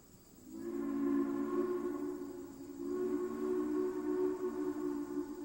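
A steam locomotive whistle sounds in two long, steady, chord-like blasts separated by a short dip, moderately distant and alone with no talk.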